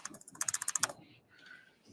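Quick burst of about a dozen keystrokes on an unfamiliar computer keyboard, close and crisp, then a short pause and a couple of softer clicks, quiet and without talk.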